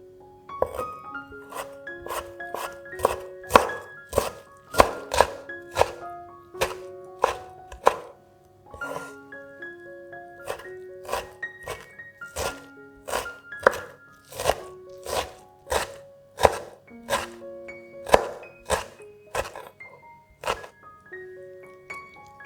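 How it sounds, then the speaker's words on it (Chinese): Squeezed-dry kimchi chopped with a knife on a cutting board, a long run of sharp, close chops in uneven bursts and pauses over soft background music, no voices. "将韩式泡菜的水分挤干，切碎，放到碗里备用"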